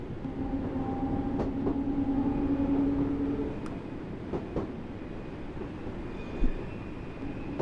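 A train in the Train Sim World 3 game, Great Western Express route, rumbles along steadily with a low rolling drone, faint tonal whines and occasional sharp clicks of wheels over rail joints.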